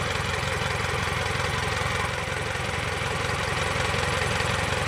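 Isuzu 4JJ1 diesel engine, freshly overhauled, runs at a steady idle close by, with a dense, even rumble and a fast regular knock that holds unchanged throughout, no voices over it.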